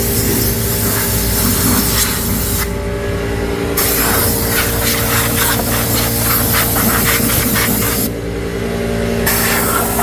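Compressed air blasts loudly and continuously into a Jeep Gladiator filter housing, a harsh hiss that drops out briefly twice and then resumes.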